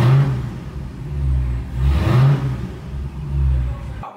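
A Dodge Challenger Hellcat engine, rebuilt after salvage, revs repeatedly in a loud, close, throaty roar that rises and falls in waves before cutting off abruptly.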